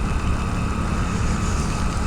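A motorbike ridden at 30-40 km/h in the rain, its engine a steady low rumble beneath dense wind and road noise that stays constant and loud throughout.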